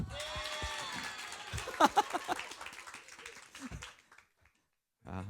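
Applause from a church prayer-meeting congregation, dense clapping mixed with voices that thins out and stops, followed by silence and a brief voice at the end.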